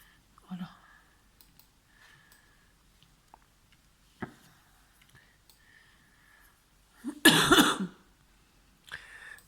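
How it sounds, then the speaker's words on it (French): A single harsh, close cough bursts out near the end during a quiet Valentine's card scrapbooking session, preceded by faint paper and craft clicks and a short soft throat sound. "j'ai mis en pause le temps de tousser pour éviter de vous contaminer avec mon virus"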